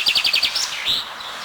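Birds singing outdoors in a quick run of about six high chirps, then a longer whistled phrase, clear and fairly close with no voices.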